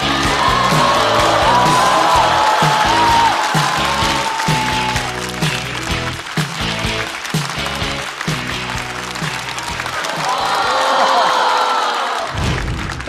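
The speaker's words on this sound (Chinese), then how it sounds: "让我们掌声欢迎王大刀。" A stand-up comedy show audience applauding and cheering as a comedian is welcomed to the stage. The clapping is loud and sustained, with rhythmic thumping music and brief voices.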